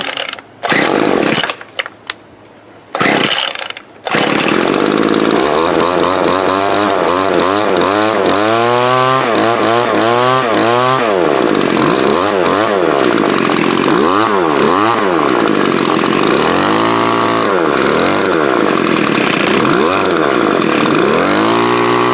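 A Craftsman 17-inch gas string trimmer starts up after a fuel line replacement, with a few short attempts before the small two-stroke engine catches and runs loud and close, revving up and down repeatedly.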